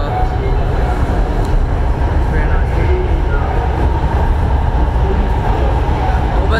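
A metro train runs at a station, a loud, steady rumble with a low mechanical drone and faint rattling that continues unbroken throughout, with no clear speech over it.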